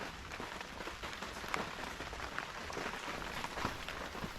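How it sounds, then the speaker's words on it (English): Rain tapping on a roof, a soft, continuous patter of small irregular taps with an occasional sharper drop, faint and even throughout, with no voices. "If you can hear all those little taps on the roof,"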